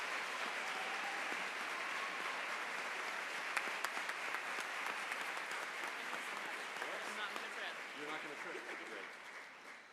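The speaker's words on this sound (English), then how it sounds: "So I know that you will all want to join me in giving a very warm Savannah Book Festival welcome to Shelby Van Pelt." Audience at a book festival applauding to welcome an author, dense and steady clapping from a large crowd that holds for about ten seconds and eases slightly toward the end.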